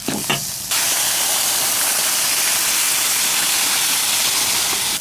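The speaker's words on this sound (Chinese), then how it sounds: "猪肉炒上色，加入开水" Boiling water hits a hot wok of stir-fried fatty and lean pork browned with dark soy sauce, bursting into a loud, steady steam hiss and sizzle that fills the rest of the moment after a brief clatter.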